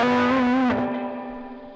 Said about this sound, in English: So that's my distortion unit.